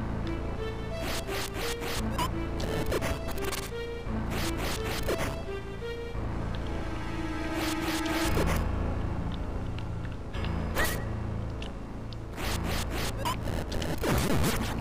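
Repeated whooshing, rasping bursts of a suction item drawing up dust in the video game The Legend of Zelda: The Minish Cap, coming in short clusters with game music tones between them.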